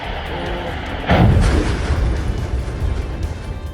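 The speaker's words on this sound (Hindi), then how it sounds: "आग इतनी जबरदस्त थी कि रात भर फैक्ट्री में धमाके होते रहे।" A deep explosion booms out of a burning factory over a constant roaring crackle of fire, heavy and rumbling, with lower thuds continuing afterward.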